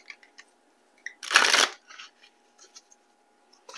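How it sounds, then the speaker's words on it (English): A Celestial Cosmos tarot deck gets one quick riffle shuffle, a short papery burst lasting about half a second amid quiet faint handling sounds. "I'll be pulling from my Celestial Cosmos Tarot deck here"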